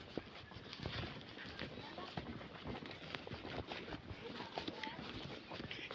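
Horse hooves clip-clop on a road up in the mountains, a quick uneven run of close, soft hoof beats over a steady outdoor background.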